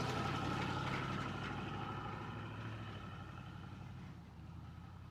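A Chevrolet Impala's engine idles with a steady low rumble and a faint mechanical hum, loud at first and easing slightly over several seconds, with no talking.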